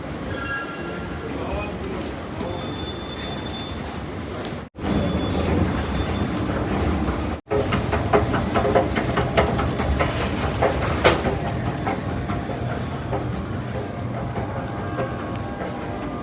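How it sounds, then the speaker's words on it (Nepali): A train pulls into a station, its steady rumble and rattling wagons running loud and continuous throughout, with two brief dropouts. "कास्काइसबाट आएको ट्रेन हो अब हामी यही ट्रेनमा जाने हो"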